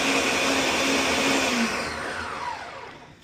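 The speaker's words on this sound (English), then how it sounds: "And blend away. I've got my ginger blender I've washed and sanitized." A kitchen blender blending ginger roars loudly at close range, then winds down and fades as it switches off, with no talk.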